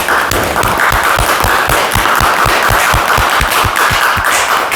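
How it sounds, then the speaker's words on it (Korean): Audience clapping at a Korean talk show or lecture after a call for a big round of applause, heard as steady, loud, dense clapping with rhythmic low thumps running underneath throughout. "우리 감탄왕님께 큰 박수 부탁드립니다"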